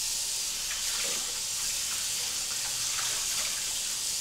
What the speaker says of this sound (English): So, you just rinse the dish